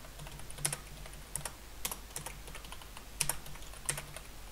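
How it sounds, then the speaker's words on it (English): Fingers type a title on a computer keyboard, producing soft, scattered key clicks in small irregular bursts over a faint background hum. "I'll just type one in here."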